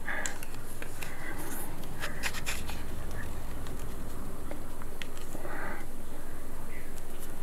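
Joss paper being folded in half and opened out while shaped into a gold ingot, giving soft papery rubs, scratches and crinkles throughout at close range with no talking.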